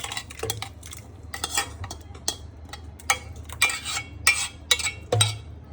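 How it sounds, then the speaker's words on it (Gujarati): A spoon scrapes and taps around a cooking pot while dal is mixed with cooked onions, potatoes and tomatoes. The knocks are close, irregular and fairly light, and the clip has no talk. "બરાબર, હલાવી દેવાનું."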